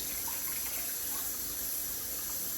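Lukewarm tap water runs steadily from a faucet, a continuous close hiss of flowing water with no talking.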